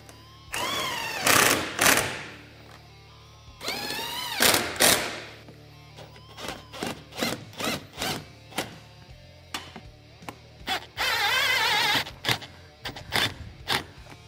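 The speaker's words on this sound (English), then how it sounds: "we're going to go through and fully tighten our hardware" A power tool tightens the windshield mounting hardware on a Can-Am Maverick X3, with several loud whirring bursts of one to two seconds, then a run of short rattling pulses, close by.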